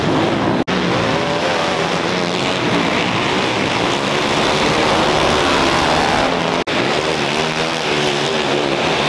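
Outlaw karts race around a dirt track, a dense, continuous roar of engines filling the air at close range with layered whining revs, briefly cut by two short dropouts.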